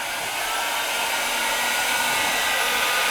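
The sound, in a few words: hair dryer blowing on photo transfer on wood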